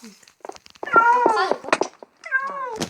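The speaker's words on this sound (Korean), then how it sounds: "나는 이제 나는 고양이를 데려왔다" Cat meowing in a video game, a few quick plaintive meows close up, with short gaps between calls.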